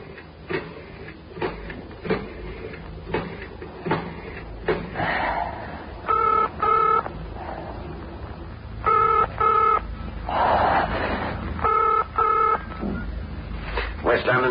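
A telephone being dialed, several bursts of electronic keypad tones spaced across the scene, with a man muttering impatiently in between.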